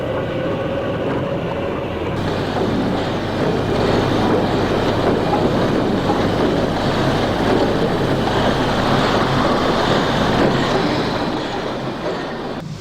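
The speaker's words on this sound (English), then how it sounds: "A Class 5830-210 is being turned." An East German Class 58.30 steam locomotive, rebuilt from a Prussian G12, being turned on a turntable, a steady broad rumble and hiss of machinery running continuously at close range, with wind buffeting the microphone and no talk.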